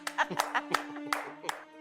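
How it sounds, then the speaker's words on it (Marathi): A few people clap in quick, uneven bursts, close by, mixed with cheerful voices and laughter. "आईसाठी टाळ्या"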